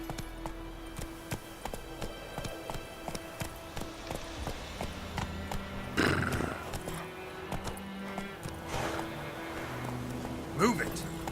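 Roach, a horse in The Witcher 3, gallops with rapid rhythmic hoofbeats and a couple of neighs or snorts, loud and close, while a voice talks in the background.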